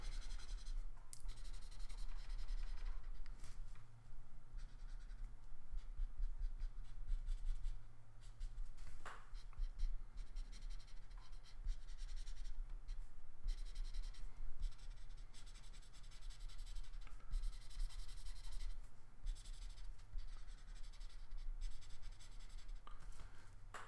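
Black marker scratching across a scrap of paper while sketching Hoth Luke Skywalker from The Empire Strikes Back, a close, steady dry rubbing with short strokes and small clicks over a low background hum.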